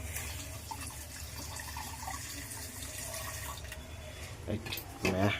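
Cold water runs steadily from a kitchen tap for egg curry, a continuous close rush with a louder splash near the end and voices talking over it.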